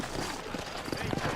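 Horse hooves clip-clop in the Red Dead Redemption video game, a short run of soft, muffled hoofbeats in an uneven rhythm over a low background hum.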